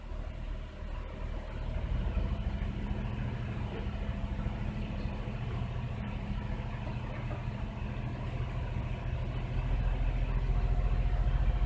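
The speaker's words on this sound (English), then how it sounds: "I'm going to raise the RPMs a bit from 600 to 2000 and see if the fuel trims change" A Jeep engine with a misfire idles as a steady low rumble, then rises slightly in pitch and loudness as the revs climb from about 600 toward 2000 RPM, continuous and close.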